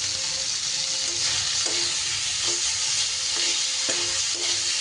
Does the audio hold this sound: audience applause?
no